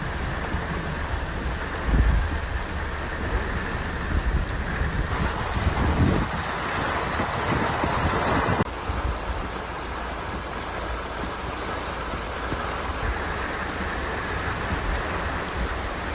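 Heavy rain pours steadily in Telangana, a dense, constant hiss of falling water with low rumbles of thunder rolling underneath, loud and close throughout with no voices.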